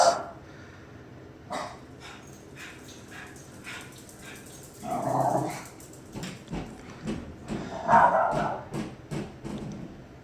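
House dogs bark intermittently at a moderate distance, with short yips and a few stronger barks spread out, over faint clicks and light handling noises.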